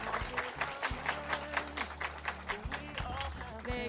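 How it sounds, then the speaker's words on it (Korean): An audience of university students applauds a bank CEO after his lecture, a steady rhythmic burst of clapping from a crowd, heard with a low sustained musical tone running underneath. "다시 한번 김한 전북은행장님께 뜨거운 박수 부탁드립니다"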